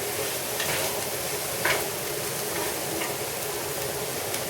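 Cubed pork and zucchini sauté in a pan with a steady, even sizzle and faint clicks of stirring, close and continuous with no voices.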